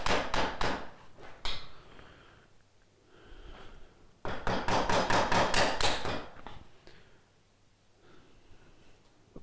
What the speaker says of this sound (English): I score the both sides at once before I start chiseling.